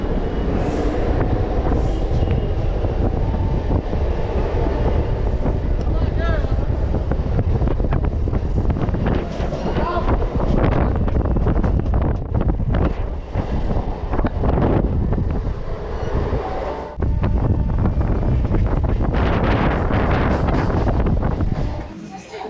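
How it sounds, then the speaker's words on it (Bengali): Passenger train pulling out of Tamluk station on the Digha to Panskura line, loud rumbling and clattering of wheels with heavy wind buffeting the microphone and surging intensity. "তো এখন ট্রেন ছেড়ে দিল তমলুক স্টেশন থেকে"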